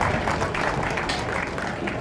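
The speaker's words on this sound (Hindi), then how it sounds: "जोरदार तालियां" An audience at an Independence Day railway division ceremony breaks into dense, steady applause that fills the whole moment.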